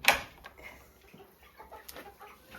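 Young Ameraucana chickens, a couple of months old, cluck softly inside their coop alongside olive eggers, with a sharp burst at the start and then scattered low calls.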